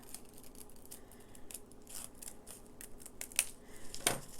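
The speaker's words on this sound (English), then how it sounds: "you're just going to very easily cut it out just like this" Scissors snip through crepe paper to cut out a flower petal shape, giving soft, faint crinkly cuts followed by a couple of sharper close snips near the end, with no talking.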